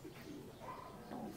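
A tame pigeon cooing softly in a loft aviary, a short low murmuring coo, faint and close.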